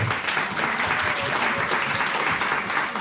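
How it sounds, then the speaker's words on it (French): A congregation at a church service in Toulouse, France, applauds for the children with steady, dense clapping from many people throughout. "Acclamons pour les enfants."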